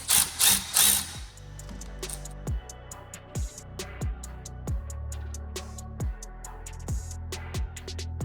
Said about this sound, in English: I'm gonna just get the bolts in quickly, and then I'll torque them down by hand